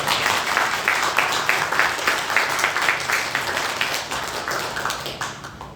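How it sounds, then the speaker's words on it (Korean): A church congregation at a Christmas Day service claps together in a steady, rhythmic beat, a bright crowd of hands repeating evenly and then thinning out at the end. "우리 박수로 하나님께 영광드립니다."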